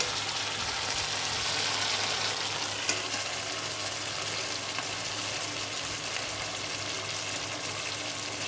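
Chicken pieces fry in a pan as a dry, bhaji-style dish, giving a steady, even sizzle that holds unbroken over a low electrical hum, with one small clatter partway through.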